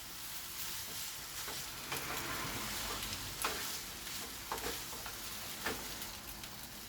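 Chinese lo mein noodles stir-fried in a pan over medium-low heat, a steady close sizzle broken by scraping and tossing sounds from stirring.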